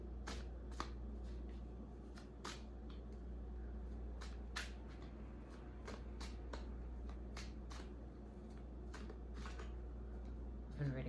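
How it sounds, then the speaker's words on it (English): Tarot cards being shuffled, a steady run of crisp riffling flutters and soft slaps close by, with a low hum beneath. "so I'm shuffling extra good for"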